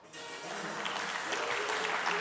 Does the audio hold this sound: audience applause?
yes